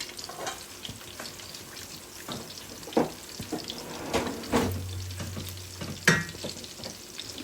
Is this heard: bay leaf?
yes